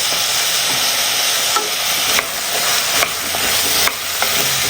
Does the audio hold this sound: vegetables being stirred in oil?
yes